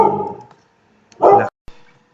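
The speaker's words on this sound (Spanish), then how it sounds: "antes de los ladridos del perro" A dog barks nearby indoors, one loud bark followed by a fainter short yelp, with a trailing bit of other sound at the start and quiet gaps between.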